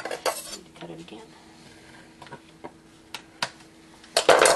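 A knife works through Genoa salami on a serving platter, giving sharp clinks and scrapes of metal on the dish, with a cluster of louder clatters at the end.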